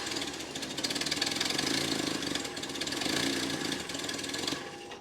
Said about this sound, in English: we're gonna start it up, see how it sounds